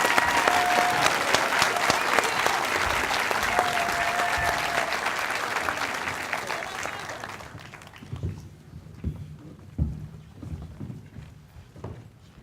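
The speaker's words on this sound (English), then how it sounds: "Another big round of applause for all of our participants, please." A large audience applauds loudly and steadily at an Asian American and Pacific Islander observance ceremony at Camp Zama, Japan. The clapping fades after about seven seconds into scattered, quieter claps.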